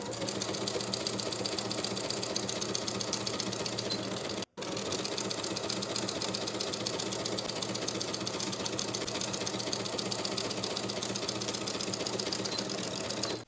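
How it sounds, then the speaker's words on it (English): A sewing machine runs steadily and close by while stitching 1/4 inch shoulder and side seams on a summer tank top, with one brief stop near the middle before the even, rapid chatter of the needle resumes. "Sew the shoulder seams and side seams with a 1/4 inch seam allowance"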